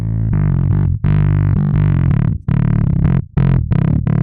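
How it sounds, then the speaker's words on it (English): Electric bass run through a Darkglass Kaamos pedal, its octave signal feeding the drive, gives loud, sustained, distorted low notes in phrases with a few short gaps, heavy and subby, with no voices. "right now we're running the octave sound, the full sound, into the drive"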